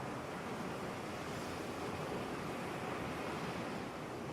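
Ocean surf washes onto a beach in a steady, unbroken roar that holds at an even level throughout, with no voices.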